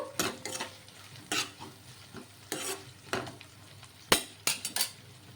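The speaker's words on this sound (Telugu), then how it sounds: "ఇప్పుడు ఇందులోకి కొంచెం కరివేపాకు కూడా వేసేసుకొని కొద్దిసేపు మగ్గించుకుందాము" Curry leaves fry and are stirred in a hot pan, with repeated scraping strokes over a steady background sizzle, several sharper clinks of the utensil against metal standing out.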